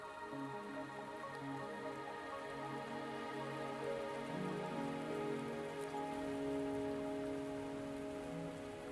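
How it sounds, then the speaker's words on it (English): Steady rain falling in a video game scene, a constant dense patter heard alone under a sustained tonal musical backdrop, even and unbroken throughout. "Are you trapped here by the rain?"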